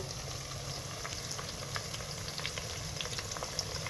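Onions browning in a pan for an egg and potato curry fry with a low, steady crackle, joined by scattered small pops.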